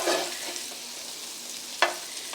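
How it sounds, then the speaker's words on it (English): Two tablespoons of butter sizzling in a pan after searing sea scallops, a soft hiss near at hand with one sharp clink or scrape partway through, no talk. "I'm going to put in 2 tablespoons of butter. And we are going"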